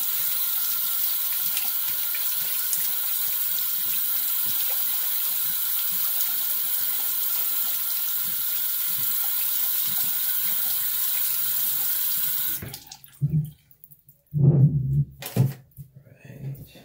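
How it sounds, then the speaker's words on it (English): Tap water runs steadily to rinse a shaving soap puck, a loud even gush that stops abruptly after about twelve seconds, followed by a few short bumps and brief spurts. "Rinse off my puck here."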